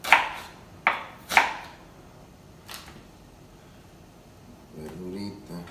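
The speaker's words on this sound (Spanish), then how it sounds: "Decidí siempre enseñarles cómo picar la verdura" A knife chops vegetables finely on a board for a soy ceviche, with three sharp close chops early on, then a softer one, then quieter handling noises; a voice murmurs faintly toward the end.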